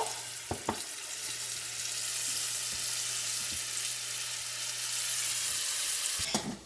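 Small anchovies fry in hot oil with a steady, close hiss of sizzling, broken by a few brief utensil clinks near the start and end.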